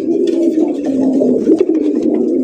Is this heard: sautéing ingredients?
no